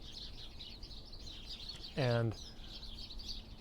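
Birds chirp loudly and keep up a continuous high, busy twittering throughout. A single short spoken word briefly cuts in near the middle.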